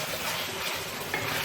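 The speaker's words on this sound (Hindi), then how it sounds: "इसे भूनते हुए तकरीबन मुझे 5 से 6 मिनट हो चुके हैं" Beef for palak gosht fries and is stirred in a pot over a medium flame with ginger added, a steady close sizzle with soft scraping of the spoon throughout.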